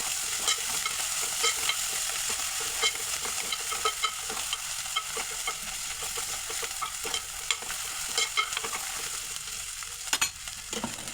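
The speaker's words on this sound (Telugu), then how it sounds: "అల్లం వెల్లుల్లి ముద్ద మసాలా ముద్ద మొత్తం కలిపి వేసేస్తున్నాం కలుపుకోవాలి బాగా" Ginger garlic paste and masala sizzle in a hot pan for goat head curry, stirred continuously with scraping strokes and frequent clicks of the spoon, close and steady with no talking.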